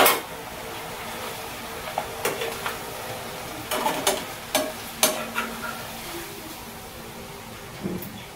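Food fries in a generous amount of cooking oil, a soft continuous sizzle under a series of sharp scraping and clinking strokes from a utensil against the pan, several in quick succession midway.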